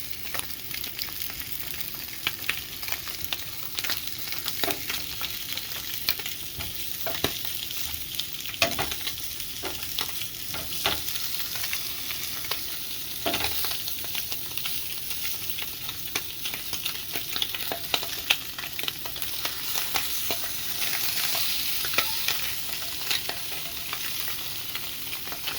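Spam sizzles and fries in a pan with a steady crackle, broken by repeated scraping, clattering stirs as the pieces are moved around, with no voices.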